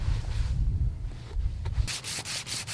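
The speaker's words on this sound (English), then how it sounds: "with a stone rasp, I'm just flattening out this surface on both sides" A stone rasp flattening both sides of a wooden piece for a prehistoric-style knife, heard as a low rubbing scrape followed by several quick, sharper rasping strokes up close.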